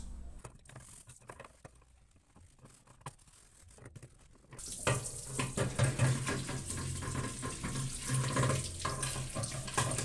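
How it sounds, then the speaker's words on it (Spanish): Cold tap water runs steadily over a metal fryer basket being rinsed in a sink, quiet at first and then a loud, continuous splashing rush for the second half. "Ya solamente la enjuago bien con agua fría."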